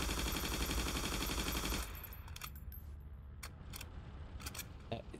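Rapid automatic gunfire from a high-rate weapon in a shooter video game, a dense unbroken burst for about two seconds, then scattered sharper single shots and clicks over a quieter background.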